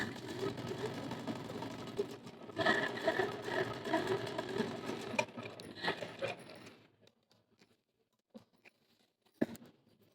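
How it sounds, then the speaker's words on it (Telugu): A sewing machine stitching a cut-piece saree hums and rattles steadily for several seconds, then stops, leaving faint scattered clicks and handling noises; a voice murmurs lightly in the background. "ఇలా పెట్టుకున్న తర్వాత ఒక 1 ఇంచ్ వరకు క్లాత్ లోపలికి స్టిచ్చింగ్ అనేది చేసుకోవాలి."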